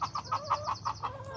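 A hen named Phoebe clucks near a nesting site in a rhythmic series of about seven short, evenly spaced clucks, close by, followed by a brief higher call.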